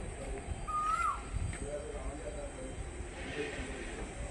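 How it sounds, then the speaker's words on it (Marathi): A single brief, clear whistled call of an Asian koel rings out once, moderately distant, near Thane Creek, over a steady low outdoor hum. "कोकिळीचा आवाज, कोकिळ आहे, कोकिळ."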